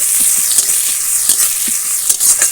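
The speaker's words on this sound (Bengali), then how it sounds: "পেঁয়াজ আর কাঁচা লঙ্কাকে একটু ভাজা ভাজা করবো শাকের ভাজার জন্য" Onion and green chili frying in a pan, a steady close sizzle with faint stirring scrapes throughout, no voices.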